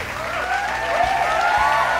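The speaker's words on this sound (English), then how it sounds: "Can we give a round of applause for everyone real fast?" Steady, sustained applause filling about two seconds at an even level, with a thin tonal layer of music running underneath.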